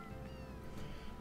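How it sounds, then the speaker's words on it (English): Two needy house cats indoors, one letting out a single drawn-out, plaintive meow, close but faint over a loud, steady background hum. "We got two needy cats in here now."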